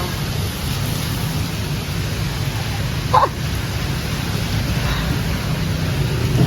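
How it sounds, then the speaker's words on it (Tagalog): Steady, dense heavy rain pours down in Bangkok throughout, a constant roaring wash with a brief faint chirp partway through. "Nailalakas pa pala yung ulan, no?"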